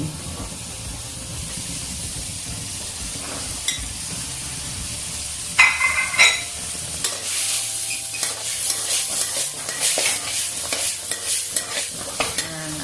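Shrimp and sugar snap peas stir-fry in a hot pan with a splash of water, giving a steady hiss broken by sharp sizzling bursts and clattering spatula scrapes in the second half.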